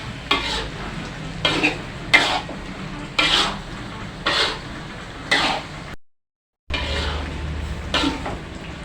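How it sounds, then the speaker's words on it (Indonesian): Sambal lado tanak cooking in a pan, stirred with regular scraping strokes over a continuous sizzle, close and steady, with a brief silent gap before the stirring resumes. "Ini kita masak teman-teman lebih kurang 1 jam sampai sambal lado tanahnya tamiak."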